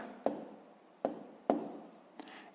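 Pen writing out a sixth-grade fraction calculation, four distinct taps and short strokes on paper spaced unevenly, quiet and close, with no voice.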